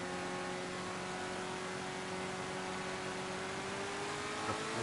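A fast car in the video game GTA Online accelerates hard with a continuous high-revving engine whine, steady and unbroken, with no voices over it.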